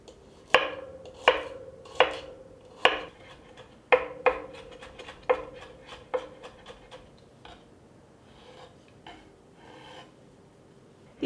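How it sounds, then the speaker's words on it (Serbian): A knife finely chops two garlic cloves on a board, sharp close taps in an uneven rhythm, a dozen or so strikes that grow softer and sparser toward the end. "Prvo što ću raditi, iseckat ću 2 čena belog luka sitno"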